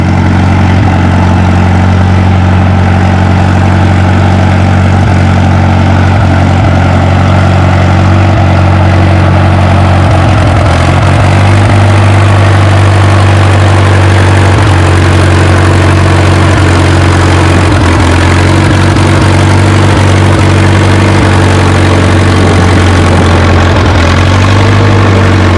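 Pulling tractor at a tractor pull event, its heavy engine droning loud and steady at a low idle throughout, with a slight shift in pitch partway and a constant rough vibration.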